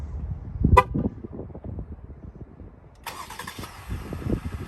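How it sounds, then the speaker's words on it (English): A 2021 Jeep Gladiator Mojave starts remotely from its key fob: a short horn chirp, then the engine cranks and catches into a steady idle, with quiet handling noises around. "This here, pressing twice, will start the Jeep Gladiator."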